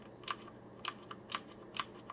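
Keys struck on a Thermaltake Poseidon Z mechanical keyboard with blue backlighting, four sharp separate clacks at an unhurried, fairly even pace, quiet and close, with no speech.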